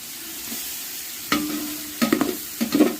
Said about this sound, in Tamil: பூண்டு பேஸ்ட் போட்டு நல்லா கலக்கி வதக்கிட்டோம்